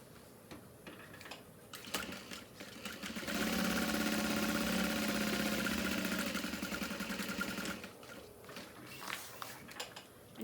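A sewing machine runs a steady burst of stitching along parallel lines on a bag, starting and stopping with brief pauses and back-stitching at each end, close and fairly quiet.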